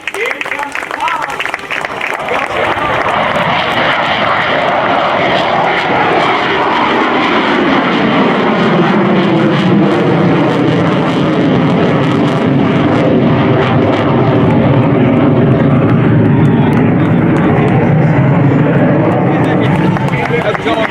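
Two F-15 Eagle jets at the Dayton Air Show throttle up to full power for takeoff, a huge roar that swells quickly and then holds loud and steady for about twenty seconds.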